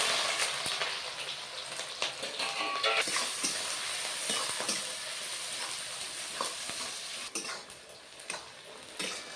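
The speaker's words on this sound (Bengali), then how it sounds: "পেঁয়াজটা আর একটু ভেজে নেব লাল করে" Chopped onions and whole spices (clove, cardamom, cinnamon and shahi jeera) fry in hot mustard oil for a mutton curry, a crackling broadband sizzle with intermittent stirring scrapes, close and steady without speech.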